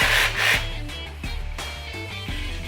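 An INGCO 20V lithium-ion cordless jigsaw cutting clamped wood: a steady rasping, buzzing blade stroke with brief surges and dips in pitch, loud and close, with no talk.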